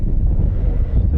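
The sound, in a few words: wind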